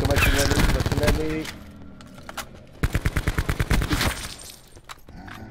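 Rapid automatic gunfire from Black Ops 4 Blackout on the Alcatraz map, a tight string of shots after earlier heavier blasts, with a voice talking over the game.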